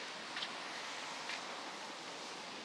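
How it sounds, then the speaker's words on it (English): Wet leaves rustle and crunch underfoot on a rainy walk through Bedok, Singapore, a soft, continuous hiss blended with the steady patter of rain, with a couple of slightly crisper scuffs. "There are some leaves if you're hearing that noise."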